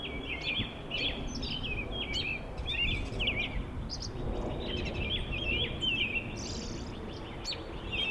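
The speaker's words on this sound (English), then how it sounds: "I do have some footage of chipping sparrow that I got a few days ago from Horn Pond" A chipping sparrow calls at Horn Pond in a series of thin, high chirps and short dry trills. The calls are faint and somewhat distant over a steady outdoor background hiss.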